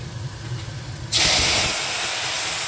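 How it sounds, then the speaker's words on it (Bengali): Green chilli, ginger and cumin-coriander paste hitting hot oil, a steady broad sizzle that jumps loud partway through and holds strong to the end, close and alone with no talk. "কাঁচা লঙ্কা, আদা আর জিরে ধনে বাটা প্রথমে আমি তেলে দিয়ে দিচ্ছি"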